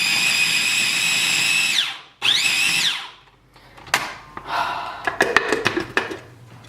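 A motorized grinder chops garlic for pizza sauce in two whining runs that rise and fall in pitch, then gives way to sharp clattering and rattling knocks.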